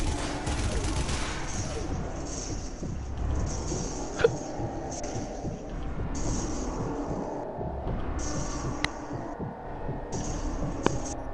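Zombie Army Trilogy machine gun fire chatters in repeated bursts across the stretch, separated by short gaps, heard somewhat distant over a steady low hum with a few sharper single cracks.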